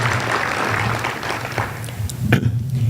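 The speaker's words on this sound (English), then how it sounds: "Let's give him a round of applause." Applause for the mayor of Odessa at a State of the Economy event, a steady broadband patter of clapping from a seated audience with a low hum beneath, swelling slightly near the end.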